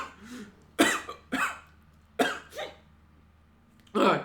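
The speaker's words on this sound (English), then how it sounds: "I nearly choked to death with my own saliva" A person coughs hard after choking on saliva, with several sharp, close bursts in uneven clusters separated by quiet pauses.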